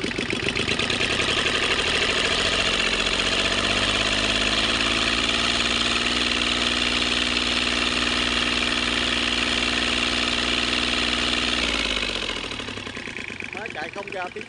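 Motorcycle engine firing up and settling into a steady idle, loud and close, with a continuous low mechanical drone and rattle for about twelve seconds before it is switched off and the sound drops away.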